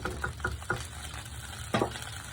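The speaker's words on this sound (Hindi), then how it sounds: "ये प्याज हमारे भून रहे हैं" Onions frying in a pot, with quiet sizzling under a few scraping stir strokes, one louder scrape near the end; no talk.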